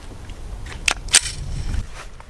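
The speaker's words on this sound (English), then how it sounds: "You got to shoot now." Glock 20 pistol firing cast lead 10mm rounds at a target, two sharp cracks about a quarter second apart, fairly distant and not very loud against light outdoor background noise.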